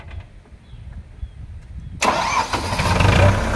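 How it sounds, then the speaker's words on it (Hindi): A tractor's engine cranks and catches at once, jumping from a quiet room tone to a loud, steady diesel rumble close by. "अब हम ट्रैक्टर को स्टार्ट करवाते हैं।"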